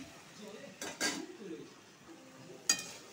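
Malabar spinach frying with spices in a pan, quiet background sizzle broken by a few clinks and scrapes of a stirring utensil against the pan, close by.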